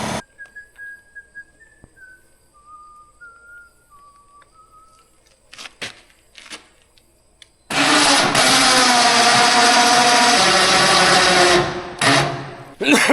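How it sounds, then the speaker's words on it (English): Air compressor kicks on abruptly after a quiet stretch with whistling and small clanks, then runs as a loud, steady motor-driven rumble for about five seconds before cutting off. "Air compressor turning on."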